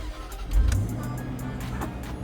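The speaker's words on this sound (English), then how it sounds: "Let's go ahead and start the engine." A Jaguar Land Rover car engine starts up close by, with a short low crank and surge that settles into a steady, even idle hum.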